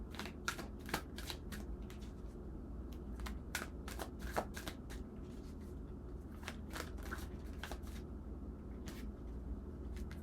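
Tarot cards are shuffled steadily and close up, with repeated quick riffling snaps and soft shuffling over about ten seconds against a quiet room hum, and no one speaking.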